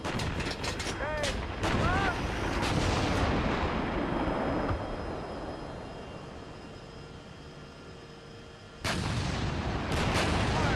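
Heavy tank cannon fire and battle rumble in a combat video game, sustained dense booms with a whooshing engine-like roar that fades mid-clip then bursts loud again, voices briefly over it.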